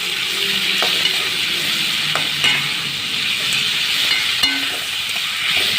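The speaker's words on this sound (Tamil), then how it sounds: "நல்லா வதங்கட்டும்" Spiced vegetables with turmeric sautéing for a whole-brinjal coconut-milk curry, a continuous close sizzle broken by a few scraping stirs of the spoon in the pan, no talk.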